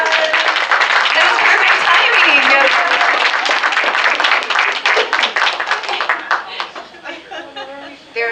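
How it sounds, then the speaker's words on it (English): Audience applause for Mrs. Weber as she walks in, loud sustained clapping with some cheering that gradually breaks into scattered claps, with a voice talking as it dies down. "Let's give her a round of applause."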